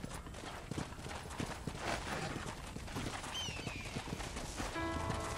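Rhythmic hoofbeats of a horse galloping in the video game Red Dead Redemption, steady clip-clop under a busy outdoor soundscape, with a brief bird-like chirp near the end.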